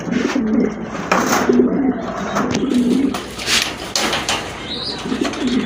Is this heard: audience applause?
no